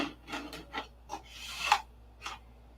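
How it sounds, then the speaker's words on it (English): Fresh sandpaper rubbed by hand over a P-47 model, giving about seven short rasping strokes in an uneven rhythm, close and fairly soft, with one longer scrape near the end. "We're just happy with some new sandpaper. Yay. That cuts a lot better."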